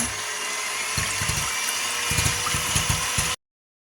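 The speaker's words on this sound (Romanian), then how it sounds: "Acum voi bate albușurile cu eritritolul." An electric mixer whips egg whites with erythritol for a pumpkin-cream cake: a steady, close whirring drone with rhythmic pulsing as the beaters move through the bowl, running alone until it cuts off abruptly.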